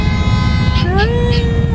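A sustained, slightly wavering horn tone sounds over a constant low traffic drone, nearby and fairly loud.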